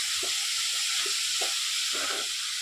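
Grated carrots frying on low flame in a pan for carrot halwa give off a steady, close hiss and sizzle, broken by a few soft stirring scrapes.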